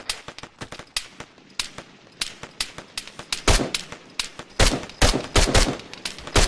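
Rapid bursts of gunfire in a video game set in a French mercenary operation, sharp cracks arriving in clustered volleys, loud and close, with no talking over them.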